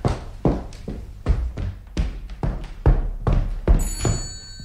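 An old telephone rings close by in rapid repeated bursts of a bell, about a dozen strikes in an even rhythm, with no speech over it.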